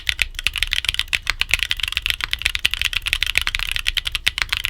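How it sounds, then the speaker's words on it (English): Holy Panda tactile mechanical keyboard switches being typed on, a rapid, uneven stream of crisp clacky keystrokes, close and steady with no talking. "for those who prioritize a hyper-tactile feel and a crisp, clacky sound profile, Holy Pandas are worth the investment."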